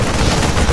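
Dense, loud gunfire in a StarCraft II match between Terran and Protoss, a brief, unbroken barrage filling the whole moment.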